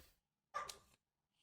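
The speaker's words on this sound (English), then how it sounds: "now you can hear my dog barking outside of my door" A dog barks once from behind a closed door, a short muffled burst heard alone in an otherwise quiet room.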